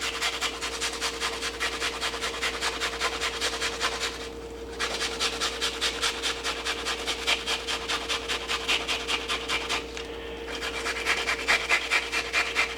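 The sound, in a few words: grating onion by hand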